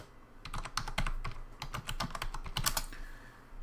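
Rapid typing on a computer keyboard that is in poor condition, a steady run of close, crisp key clicks with brief pauses, heard alone with no voices.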